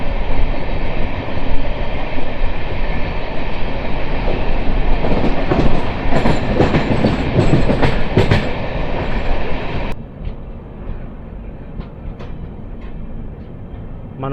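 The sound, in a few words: LHB passenger train running and changing tracks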